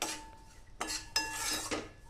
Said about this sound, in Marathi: राजगिऱ्याला आपण सतत परतत राहायचं आहे